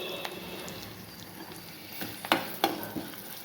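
Cumin and other tempering spices sizzle in hot oil in a pan for carrot pickle, a faint, steady crackle broken near the end by two sharp stirring clicks.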